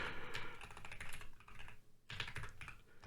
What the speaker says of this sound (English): I was trying to type Thintrovert and I ended up typing Thund.